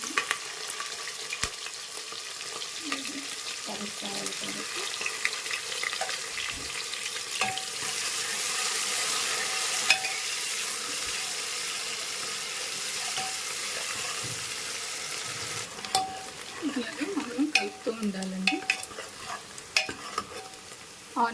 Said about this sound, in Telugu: ఆనియన్స్ కొద్దిగా రెడ్డిష్ వచ్చేంత వరకు గోల్డెన్ కలర్ వచ్చేంత వరకు మనము ఇలాగ బాగా ఫ్రై చేసేసుకోవాలి